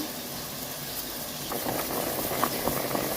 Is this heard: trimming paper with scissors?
no